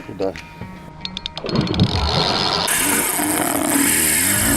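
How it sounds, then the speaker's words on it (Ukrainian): A Ukrainian friction-powered vehicle's engine revving hard, rising from sputtering bursts into a loud, sustained roar that holds steady, with people talking over it. "Оце вона газує, вже набирається сили"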